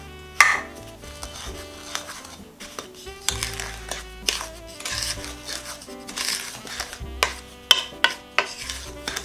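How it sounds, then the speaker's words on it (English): Orange cranberry nut bread batter with sugar, baking powder and baking soda being stirred in a bowl, with steady scraping and knocking of a spoon against the bowl and a few sharper clinks, near and alone with no talk. "And we have to stir this well."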